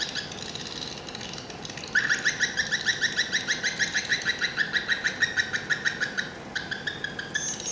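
Swiftlets call inside a swiftlet farm, a dense, rapid series of high chirps repeating steadily for several seconds, fairly close and loud, with a short break before the chirping resumes.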